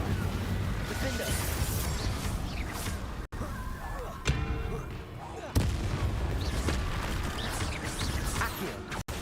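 Spell casting in Hogwarts Legacy, with Accio and Incendio blasts mixing into continuous combat effects: booms, cracks and whooshes that run loud and dense almost throughout, with a couple of brief drops to near silence.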